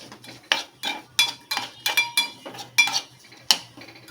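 A roasted spice mix with grated coconut is stirred in a pan for street-style vada pav, with rhythmic metallic scrapes and clinks of a spoon against the pan, about two per second, close and clear with no talking.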